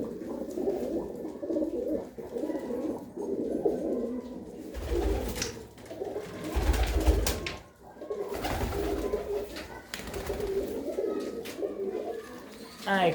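Pigeons keep up a steady, close cooing while bursts of rustling, flapping or handling noise cut in repeatedly, and a person talks at points over the birds.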